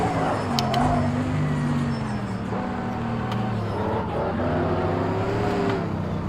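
Car in the racing game Project Cars 2 accelerating hard, a steady loud engine drone with rising and shifting tones throughout, close and continuous with no talk.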